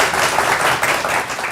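A brief, loud burst of dense audience applause fills a Holi special stage show on a news channel, steady clapping with no pauses for the short duration.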